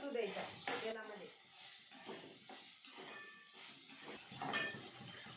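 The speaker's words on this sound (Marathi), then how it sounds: "बघा गवारी शेंगा टाकून झालेले आहे आणि त्या मस्त परतू द्यायच्या तेलामध्ये" Cluster beans sizzling and frying in hot oil in a pan, a steady hiss with soft crackles, faint and close, with someone talking over it.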